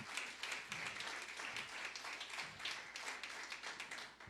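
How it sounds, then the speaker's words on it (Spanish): Congregation applause fills a church, a dense, steady patter of many hands clapping at moderate level throughout, with no clear talk over it. "Démosle un aplauso al Señor."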